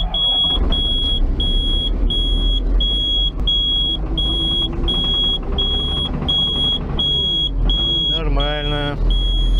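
A heavy diesel engine of an LW300F wheel loader starts and rumbles loudly and steadily in cold weather while a high electronic beep repeats at a regular pace over it.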